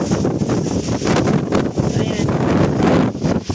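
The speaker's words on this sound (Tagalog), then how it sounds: "malakas talaga ang hangin" Strong gusting wind on the High Junk Peak summit buffets the microphone in a constant roar, with a brief spoken word partway through.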